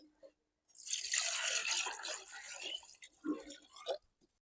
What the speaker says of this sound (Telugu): ఉల్లిపాయల్ని కడిగి తరిగేసుకుంటా.